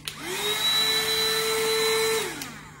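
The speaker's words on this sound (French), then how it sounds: "En fait, c'est aussi un genre d'aspirateur à main." A handheld vacuum cleaner with small nozzle attachments whirs up to speed, holds a steady high whine for about two seconds, then winds down, close and loud with no talk.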